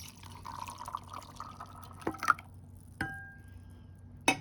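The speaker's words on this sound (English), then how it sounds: "Now I'm going to pour some water in a jar with the almonds." Water poured into a jar of almonds, heard as faint trickling and dripping with a few sharp splashy clinks against the glass, close and intermittent over a quiet background.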